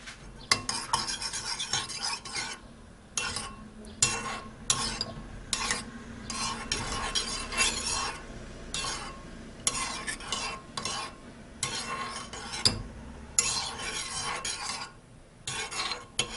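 Eggs seasoned with a pinch of salt being beaten in a bowl, a fast, steady run of scraping whisk strokes with short pauses between bursts, close and with no talking.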